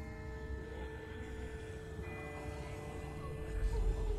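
A distant bell in The Walking Dead video game rings with faint, sustained tones that hang over a low ambient drone, heard alone with no voices.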